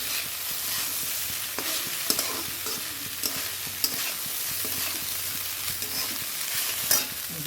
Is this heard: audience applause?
no